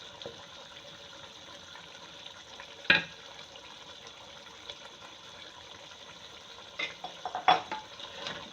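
Fish pieces are added to masala in a pan on a lowered flame, giving a faint, quiet sizzle with a few soft knocks and stirring scrapes.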